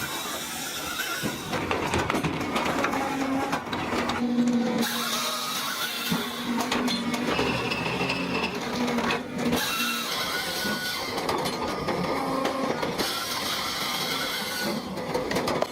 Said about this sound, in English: The spinning circular saw drops instantly, a blur of steel slicing through wood with surgical precision.